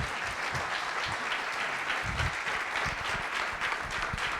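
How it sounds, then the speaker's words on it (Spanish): A large audience at a community event in Vitoria gives loud, sustained applause, dense clapping that fills the whole stretch without pause. "un aplauso fuerte"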